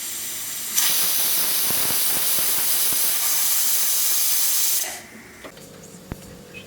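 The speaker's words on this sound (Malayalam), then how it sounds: "ഇനി കുക്കർ ക്ലോസ് ചെയ്തതിന് ശേഷം ഹൈ ഫ്ലെയിമിൽ തന്നെ ഒറ്റ വിസിൽ മതി കേട്ടോ" A pressure cooker cooking biryani over high flame lets out a loud, continuous hiss of escaping steam for about four seconds. It cuts off abruptly, leaving a quiet kitchen with a couple of faint clicks.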